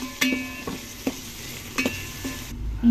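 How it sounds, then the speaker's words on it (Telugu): Fenugreek leaves, coriander and mint frying in a pan for pulav, a steady sizzle broken by repeated clinking strokes of a stirring spoon, close and without talk. "కొద్దిగా కొత్తిమీర, కొద్దిగా పుదీనా వేసుకొని ఇవన్నీ బాగా కలుపుకొని బాగా వేయించుకోవాలి."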